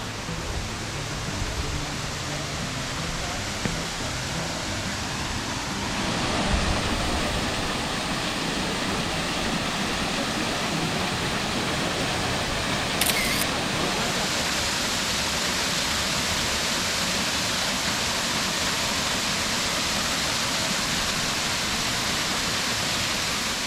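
A small waterfall at Buraco do Padre gives a steady, close rush of falling water that carries on evenly throughout with no voices.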